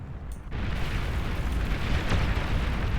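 Plasma cannon fire from walking K-bots and explosions in the strategy game Beyond All Reason: a sudden loud onset into a dense, continuous rumbling barrage of booms and blasts, with no voices.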